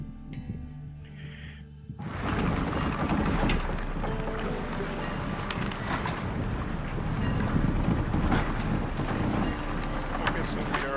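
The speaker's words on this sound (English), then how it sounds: "Okay, so we are sailing to Skellige." A ship under sail at sea in The Witcher 3, heading for Skellige: a steady, loud wash of wind and water that starts abruptly and holds, with faint voices underneath.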